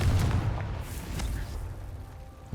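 A fiery spell blast from the Confringo charm in Hogwarts Legacy, a deep rumbling boom that rolls and fades over a couple of seconds, with a sharp pop at the very end.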